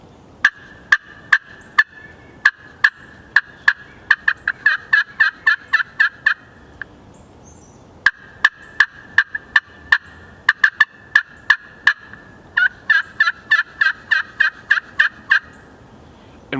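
Turkey hunting call worked loudly and aggressively, two long runs of sharp rhythmic yelps that speed up and bunch together, separated by a short pause, close and clear with no talk.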